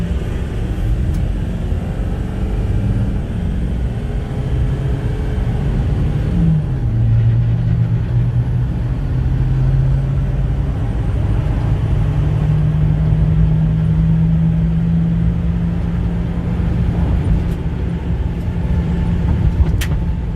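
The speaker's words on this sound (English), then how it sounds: "So I'm gonna hit the throttle pretty hard right here." A 2009 Ford F-450 dual-rear-wheel diesel truck accelerates hard at full throttle, a loud, continuous low engine roar with a rising tone as it picks up speed, heard from inside the cab without talk.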